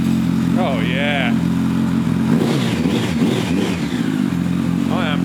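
A budget motorcycle's engine runs steadily in Benidorm with a brief rev, close by, while people talk over it.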